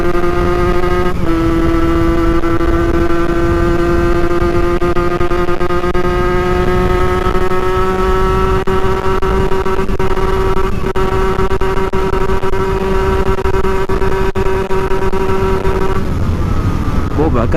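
A Peugeot NK7 moped two-stroke engine held at high revs, a loud steady buzzing whine that climbs slowly in pitch for most of the stretch, then drops off near the end, with a jump in revs early on.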